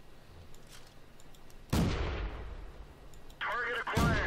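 Artillery fire in the World of Tanks video game: a sudden heavy boom with a long rumbling decay, followed by another sharp blast near the end, with a brief radio-like game voice between them.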